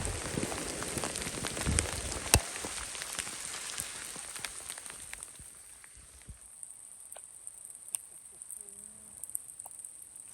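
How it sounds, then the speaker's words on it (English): Steady rain patters on surfaces in mountain wilderness at Tamarack Lake, Montana, just after a hailstorm, with a few sharper drops standing out; the patter is fuller at first and gradually thins and quiets toward the end. "After the hailstorm, it just settled into rain."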